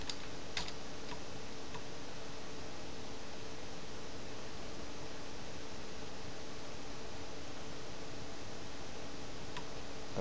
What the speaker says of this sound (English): So now we'll go here, type ipconfig /release